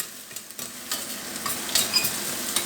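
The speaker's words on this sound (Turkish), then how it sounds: "Böyle de soğanlarım sotelendi pempeleşti arkadaşlar." Onions sauté in a pan with a continuous light sizzle, punctuated by several quick stirring scrapes and clinks close by.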